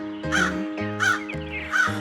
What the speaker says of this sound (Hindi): कालिया कौवा खाने की तलाश में इधर उधर उड़ रहा था।